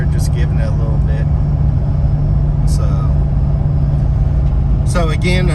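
A car with a 416 stroker engine, FI spacers, a 4600-4800 stall converter and a 2.38-inch pulley cruising in sixth gear gives a loud, steady cabin drone and rumble, while someone talks over it in short bursts.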